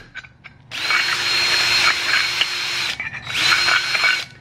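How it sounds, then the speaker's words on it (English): A power drill bores a single hole in the top of a coon trap in two loud, steady whining bursts, the first lasting about two seconds, then a brief pause before the second. "So for this one, I'm going to get me a drill."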